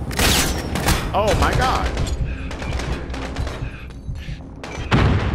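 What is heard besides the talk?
gunfire in Call of Duty Modern Warfare video game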